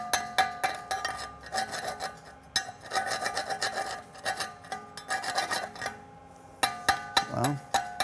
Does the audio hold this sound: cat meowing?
no